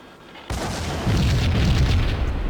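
A grenade goes off in the Max Payne video game, a sudden heavy boom after a quiet lead-in that rolls into a loud, sustained rumble of debris and echo.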